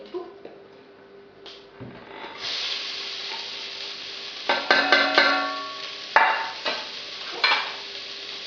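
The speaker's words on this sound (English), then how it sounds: "we're going to pop the onions and the leeks into the pan" Onions and leeks sizzle in warm olive oil in a pan over medium heat, a steady frying hiss with a few sharp clatters and stirring scrapes breaking through, no talk.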